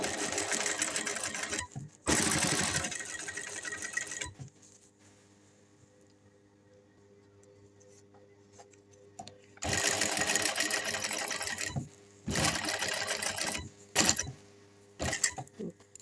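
Sewing machine stitching a dress neckline, running in bursts of steady rapid whirring separated by pauses with faint background hum, close and fairly loud, with no voices.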